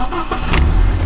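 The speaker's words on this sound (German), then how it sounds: "Motor starten." BMW E36 sedan with the M44B19 engine cranking and catching, a brief starter whir followed by the engine firing into a low, rumbling idle, close and loud.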